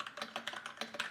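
Quick, light tapping of keys on a computer keyboard at a Mac Mini, a short run of about a dozen crisp clicks in an uneven rhythm, close and fairly quiet, with no talk.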